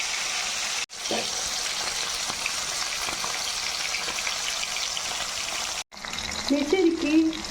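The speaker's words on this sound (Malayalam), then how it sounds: "ഞാനിത് തിളച്ച എണ്ണയിലേക്ക് ഇടാൻ പോവുകയാണ് വറുക്കാൻ വേണ്ടി." Karimeen pearl spot fish, marinated in chili, frying in boiling oil. A dense, loud sizzle runs throughout and is cut twice by brief breaks. A voice speaks briefly over the frying near the end.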